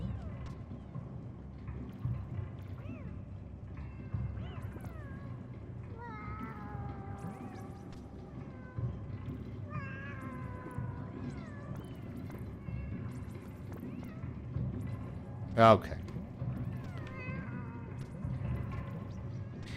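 Cats meowing in a video game, several short cries scattered over steady game sound and background noise, with a brief sharp burst near the end; a voice speaks briefly.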